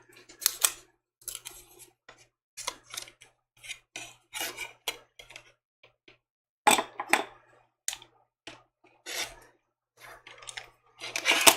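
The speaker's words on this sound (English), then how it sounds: "And then we're trimming this." Scissors trim quilt fabric for a small foundation-paper-pieced block in a series of crisp, close snips, some single and some in quick bursts, separated by short pauses and with no talking.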